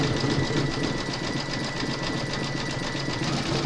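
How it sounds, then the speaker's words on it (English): An embroidery sewing machine satin stitches the border of a placemat in a hoop, a dense, rapid and steady mechanical buzz close by, running without pause. "you're now going to stitch round number 7, and that's going to satin stitch over all the rest of the joins and the outside edge"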